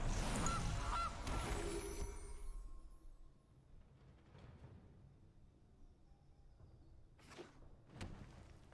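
The goose honk of the Gilded Goose card in the video game MtG Arena comes as a loud honking call at the start, then fades out. Faint clicks and soft tones from the game follow, and no one talks.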